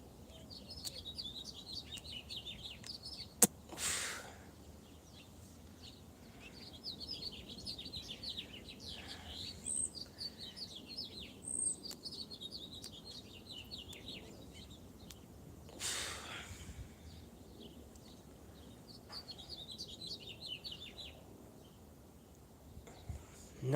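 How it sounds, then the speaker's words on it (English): Birds chirping outdoors, repeated bursts of high, thin twittering song at moderate distance over a quiet background, with occasional soft thumps and breaths nearby. "noisy birds today."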